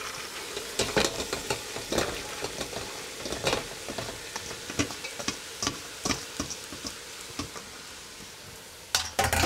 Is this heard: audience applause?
no